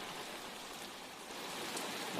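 Steady soft patter of light rain, an even hiss of drops with no voices, continuous and fairly faint throughout.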